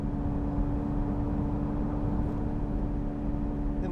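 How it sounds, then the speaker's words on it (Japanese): A steady, low engine hum from a Porsche 918 Spyder hybrid, its engine started while climbing a gentle uphill, runs throughout with a constant tonal drone and no talking. "アクセルをね少し踏み込んであげるとエンジンが始動しますね。"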